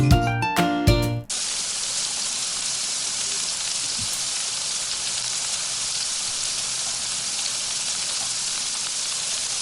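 Marinated goat head curry lands in hot oil with a loud, steady, hissing sizzle that continues evenly for several seconds after a few brief clanks at the start.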